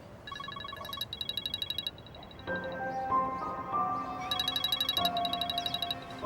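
A mobile phone rings with an incoming call, its electronic ringtone repeating in pulsed bursts that give way to a melodic tone pattern, fairly close and clear over a quiet room with no talk.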